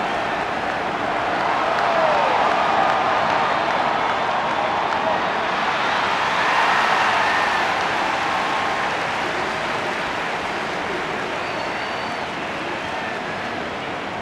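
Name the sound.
football crowd cheering and applauding at AFL grand final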